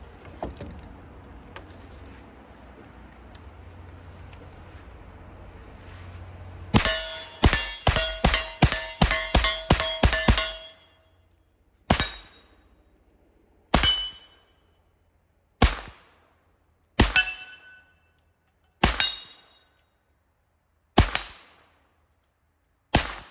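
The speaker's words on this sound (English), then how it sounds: "Auto Ordinance Tommy gun, 45 ACP. Let's shoot it." An Auto Ordnance Thompson Tommy gun firing .45 ACP lets off a rapid burst of about ten loud, close shots, then six separate single shots spaced a second or two apart, each ringing out sharply with no talk.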